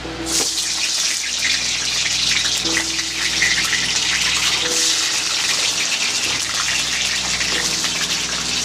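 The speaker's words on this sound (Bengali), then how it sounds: "সবার প্রথমে আমি আলুটাকে ভেজে নেব" Potatoes fry in hot oil with a steady, loud, close sizzle that stays dense and even throughout, with no talking.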